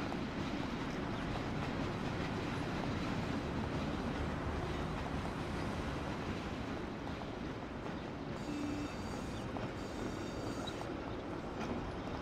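An elevated train in the video game Mafia rolls along with a continuous rumbling clatter of wheels on rails and a brief squeal, steady and fairly loud, with no talking.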